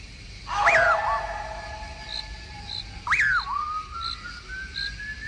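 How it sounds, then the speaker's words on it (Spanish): An eerie, piercing whistle sounds twice, each time a sharp rising tone that slides and then holds long and thin, with faint chirps in a quiet, dark background. "Un raro silbido penetrador y espeluznante comienza a dejarse oír"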